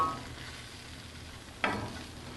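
Breakfast potatoes and onions fry on an Island Grillstone with a soft, steady sizzle, and a single brief scrape of a toss partway through. Faint and close, with no voices.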